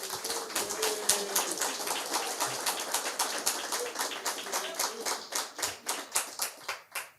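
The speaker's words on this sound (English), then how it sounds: "a round of applause for Oduor Jagero" A crowd at a public debate in Nakuru applauds, the dense, steady clapping fading into a few separate claps toward the end.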